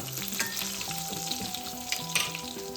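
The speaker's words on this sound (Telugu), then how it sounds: "బాగా ఫ్రై అవ్వాలండి." Potato pieces frying in a pan give a continuous crackling sizzle with brief, sharper pops, while a light melodic tune plays quietly in the background.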